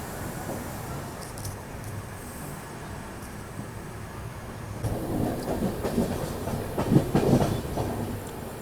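Samarsata Express (12152) pulling out of Durg Junction, a low rumbling roll that builds into louder clattering wheel noise over the second half.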